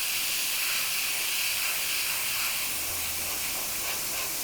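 An airbrush sprays paint in one continuous, even, close hiss that runs unbroken from start to finish.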